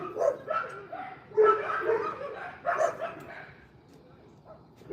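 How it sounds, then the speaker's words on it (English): Neighborhood dogs bark in several bursts on a Philippine evening, a mix of yips, barks and whimpers at moderate distance, irregular and overlapping, with no talk. "People walking their dogs, getting all the neighborhood dogs fired up."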